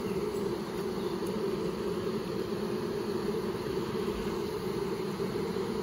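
Honeybees left confused after a large swarm catch in a backyard buzz continuously at close range, a dense steady drone with no pauses.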